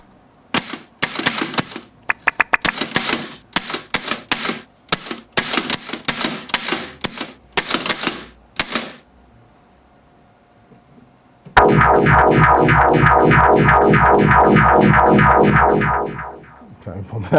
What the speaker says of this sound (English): I made this playing a typewriter.